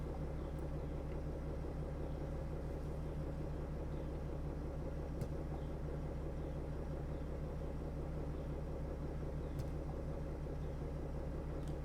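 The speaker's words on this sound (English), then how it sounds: "So I'm gonna let the vehicle idle" A Mercedes Sprinter engine idles with a steady, even diesel rumble, continuous and unchanging throughout, close by and with no talk.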